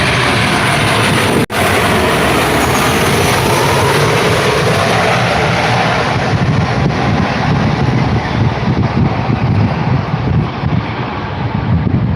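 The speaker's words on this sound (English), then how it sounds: "touching down on runway 14 with tyre smoke." An airplane touches down on runway 14 with tyre smoke, a loud broadband engine roar heard outdoors with wind buffeting the microphone and a brief dropout near the start.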